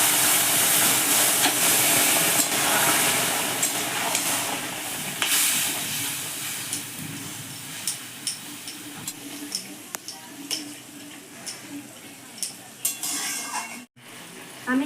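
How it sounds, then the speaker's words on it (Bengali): Spice tempering for sambar sizzles loudly in a hot pan, a dense steady hiss that fades slightly over time, with small pops and clicks scattered through it and a brief cutout near the end. "এবার আমি সম্বার দিয়ে দেবো"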